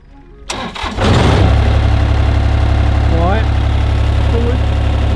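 A grass-cutting mower engine cranks and catches after a second or so, then settles into a loud, steady close-up idle while people talk over it.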